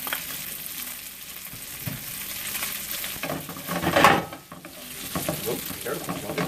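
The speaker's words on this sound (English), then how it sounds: "So the rice has been stir frying here for a little bit." Rice and diced ribeye beef being stir-fried for steak fried rice, with a loud continuous sizzle, a swell of scraping and tossing around the middle, then the frying hiss resuming close by.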